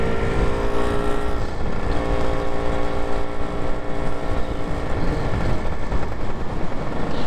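A Lambretta scooter engine revs as the throttle opens with the clutch lever let out, a close, steady two-stroke drone with rising and shifting pitch, heard without talk.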